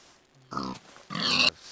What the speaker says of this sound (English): There's some piggies over there.